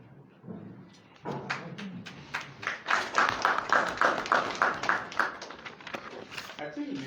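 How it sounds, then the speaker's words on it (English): A small group claps at a press conference. The applause is uneven and irregular and builds after a quiet start. "I think the chairman deserves a louder round of applause."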